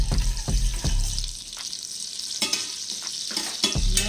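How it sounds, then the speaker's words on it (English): Olive oil and melting butter sizzle in a soup pan while a spoon stirs them together, with rhythmic scraping knocks against the pan over a constant frying hiss, close and fairly loud with no talking. "Our butter is melting, and then we're going to stir those two together."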